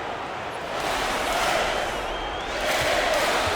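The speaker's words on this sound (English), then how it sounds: "Crowd trying to get loud and spark a run" Video-game basketball arena crowd from NBA 2K25 during a playoff game, a dense steady roar of many voices swelling slightly louder toward the end, with no clear talk on top.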